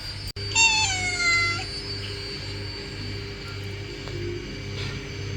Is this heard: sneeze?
no